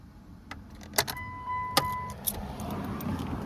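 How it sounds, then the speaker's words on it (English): A key slides into the ignition of a Chrysler with a 2.4 DOHC four-cylinder engine and turns to accessory: sharp metallic clicks and a light jangle, then a steady electronic warning chime that sounds for about a second in a quiet cabin. "Just put the key in, turn it to accessory."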